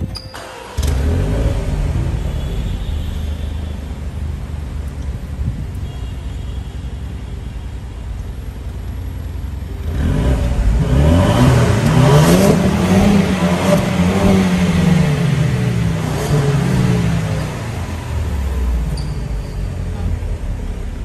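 A 2019 Jaguar F-Type P300 runs close by, its exhaust settling into a steady idle before a strong rev swells the note upward and then lets it fall back, the engine loud and near with no talk.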